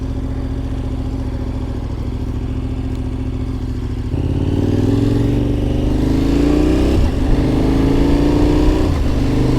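A KTM motorcycle rides a paved road in Bulgaria, its engine droning steadily with wind noise, then pitching up as it accelerates partway through and holding a higher, rising note with no talking.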